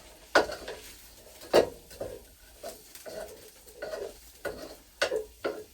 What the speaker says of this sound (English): And I'll give that a stir around.